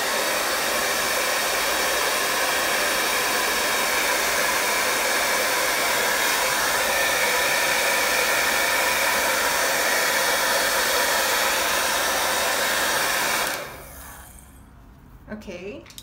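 A hair dryer blows steadily and loudly at close range to dry a moonlight painting, a continuous whooshing roar for most of the time before it clicks off, leaving quiet with a few faint handling sounds.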